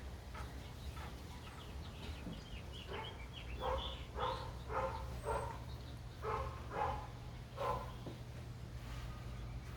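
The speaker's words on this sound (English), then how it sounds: "And a dog barking." A dog barks repeatedly in the distance outside a potting shed, faint rhythmic yelps over a steady low hum, with no speech.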